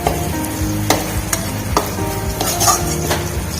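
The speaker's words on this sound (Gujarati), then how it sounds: "બધું મિક્સ કરી લઈએ." A spoon stirs a spice mix with crushed peanuts into dry potato sabji in a pan, making a soft sizzle. Sharp scraping clacks come about every second, close up.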